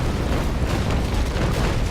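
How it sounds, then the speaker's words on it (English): A naval cannon broadside fires in the Naval Action sailing warship game, with dense, rolling booms of cannon fire that rumble loudly and continuously across the whole moment. "This guy's giving me a nice little broadside option here."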